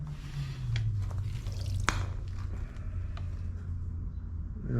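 Water from a hose draining and dripping onto the floor of a flooded hangar, a faint, steady trickle with soft squishy drips and one sharper drop.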